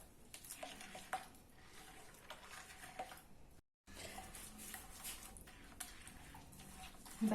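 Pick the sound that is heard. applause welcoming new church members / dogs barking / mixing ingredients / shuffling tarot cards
mixing ingredients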